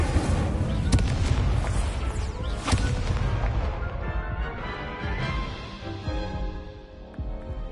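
The Incendio fire spell is cast in the Hogwarts Legacy video game, giving a loud whooshing burst of flame with booming impacts that fades over several seconds.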